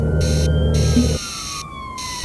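An NYPD police car siren wails continuously in a steady rising and falling tone, loud and close at first over heavy low traffic rumble, then carrying on more thinly as the rumble drops away, with no talking.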